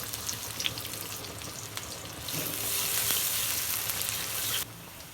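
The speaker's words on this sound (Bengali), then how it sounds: "প্রথমে দিয়ে দেবো তেলের উপরে পেঁয়াজ।" Onions frying in oil in a wok make a continuous close sizzle that swells louder midway, with faint stirring scrapes and clinks. The sizzle drops off abruptly near the end, and no one speaks.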